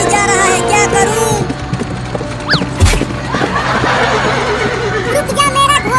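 A cartoon horse neighs and whinnies in a comic chase scene, with galloping hoofbeats and lively music, while cartoon voices talk over it.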